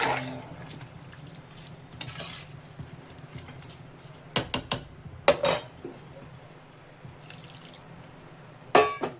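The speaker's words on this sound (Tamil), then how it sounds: "எக்ஸ்ட்ரா கொஞ்சம் தண்ணி வந்து நான் ஆட் பண்ணுறேன். நம்ம தண்ணி ஆட் பண்ணிவிட்டு நல்லா மிக்ஸ் பண்ணி பார்த்தோன்னா" Extra water poured into a pot of chicken biryani rice and then stirred, with soft trickling and dripping under several sharp clanks and scrapes of a utensil against the metal pot, no talking.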